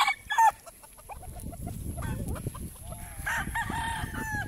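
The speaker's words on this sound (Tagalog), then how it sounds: "mga binibendang manok" Several roosters crow over a constant background of chickens clucking and chattering, a busy farmyard of gamefowl with no talking.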